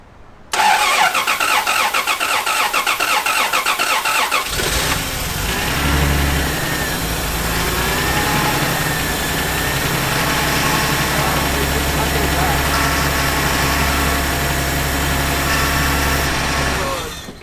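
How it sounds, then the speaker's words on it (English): An old, neglected Toyota car engine cranks on starter fluid and catches, then settles into a steady, rough idle that runs loud and close for over ten seconds, with people talking briefly over it. "the motor sounds good"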